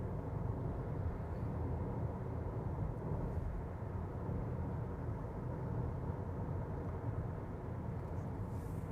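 2022 Proton X70 with a 1.5-liter three-cylinder turbo engine cruising on a highway at about 110 km/h, a steady, fairly quiet broadband road and engine hum from inside the cabin with no talking.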